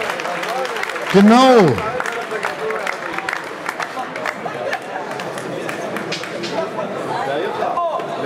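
An audience at a boxing event applauding and cheering, a rising burst of clapping and crowd noise under an announcer's voice, settling into a steady hubbub.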